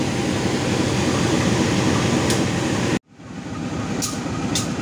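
Passenger train KA Rajabasa with a CC 201 locomotive waiting at a station, giving a steady loud rumble and engine hum that cuts out abruptly partway through, then swells back up with faint high squeals.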